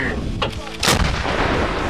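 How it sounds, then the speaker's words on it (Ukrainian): A single heavy artillery blast from a combat vehicle firing an experimental round, a sharp loud boom with a rolling rumble trailing off, over steady outdoor background noise. "розрахунок бойової машини здійснює постріл експериментальним боєприпасом"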